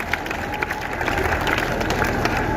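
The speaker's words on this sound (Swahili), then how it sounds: "Situpigie mheshimiwa makofi mzuri." A crowd at a community gathering in Ruiru, Kenya claps for an honoured guest, with sustained close applause, scattered louder claps and faint cheering throughout.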